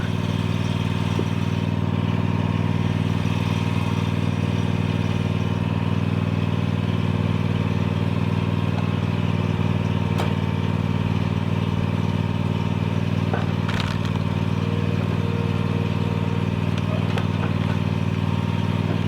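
American-made log splitter engine running steadily while it splits big knotty oak, a loud continuous mid-pitched drone with occasional faint clanks and knocks over it.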